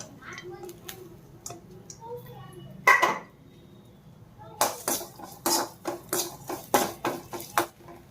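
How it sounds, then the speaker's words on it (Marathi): Dry coconut roasting in a pan while a spatula stirs it, giving scattered scrapes and clinks of utensil on metal, some sharp bursts of scraping in quick succession, heard close with no voices. "आता भाजून घ्यायचं आहे सुकं खोबरं।"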